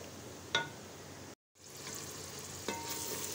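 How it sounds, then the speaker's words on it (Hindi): Potatoes and peas frying in a spice masala, a soft steady sizzle with two clinks of a stirring utensil and a short silent break. "अब यहाँ पे देखें हमारे जो आलू मटर हैं वो मसाले में अच्छी तरह भून भी गए हैं"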